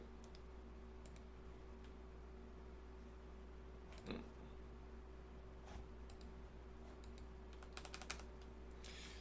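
A faulty computer keyboard clicks faintly under a steady low hum, with a few scattered isolated keystrokes and a short cluster of quicker taps near the end.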